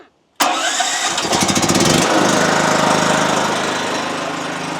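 A petrol generator engine cranks and fires after a brief silence, sputters unevenly for a moment, then settles into a loud, steady running drone close by, with no talk.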